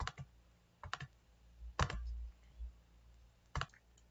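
Sharp, close clicks come in small clusters of one or two, spaced irregularly over a quiet background, like a computer mouse button being pressed.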